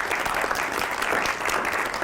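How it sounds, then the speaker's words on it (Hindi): Hearty applause from a crowd at a Hindi poetry reading, a full, continuous burst of many hands clapping close and loud for the whole stretch. "तो एक बार ज़ोरदार तालियों से आवाज़ दीजिए"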